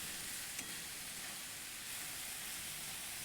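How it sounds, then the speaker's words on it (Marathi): Chopped dill greens (shepu) steaming and sizzling in a pan as they are stirred from side to side for a Kokani-style bhaji, a steady soft hiss with no voices. "आणि मस्तपैकी इकडून तिकडून ढवळून घेणार आहे."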